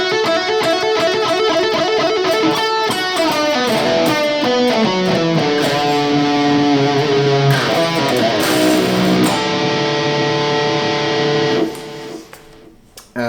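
Distorted electric guitar plays a solo alone, with fast melodic runs and sustained notes at steady loudness before it fades out near the end.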